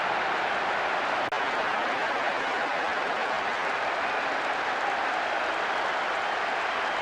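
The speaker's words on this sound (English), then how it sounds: "The capacity crowd are enjoying the goal celebration." A capacity stadium crowd roars steadily in a football video game after a goal, a dense, unbroken wall of cheering that holds at constant loudness throughout.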